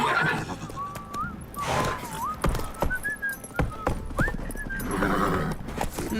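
A horse in a video game gives several whinnies and neighs between sharp clip-clop hoofbeats, close and loud.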